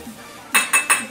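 A knife chops vegetables for bhel on a board: three quick, sharp strikes in an even rhythm after a quiet start, close and fairly loud with a clinking edge.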